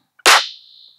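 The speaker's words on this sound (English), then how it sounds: "I have a couple of claps." A single sharp clap sample from a future riddim beat hits hard and close, then decays into a short ringing, resonant tail.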